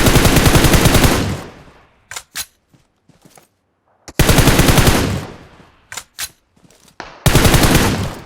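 Automatic gunfire in the mobile shooter PUBG Mobile, loud and close: a long rapid burst, a few scattered single shots, then two more sustained bursts, with near silence in between.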